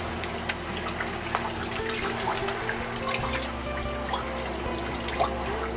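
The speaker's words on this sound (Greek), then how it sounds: "το περνάμε κάτω από τη βρύση" Tap water runs steadily over a fish wrapped in wet newspaper in a kitchen sink, a continuous close splashing hiss with occasional drips and small splatters, no voices.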